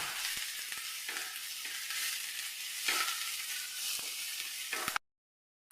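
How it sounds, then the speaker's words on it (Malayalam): Onions and curry leaves sautéing in a pan, a soft continuous sizzle with occasional faint stirring clicks, steady for about five seconds and then cutting to silence. "രണ്ട് തണ്ട് കറിവേപ്പില പിന്നെ ഇതിലേക്ക് നമ്മൾ ഒരു മീഡിയം സൈസ് രണ്ട് സവോള അതുപോലെ ഒന്ന് വഴറ്റിയെടുക്കാം"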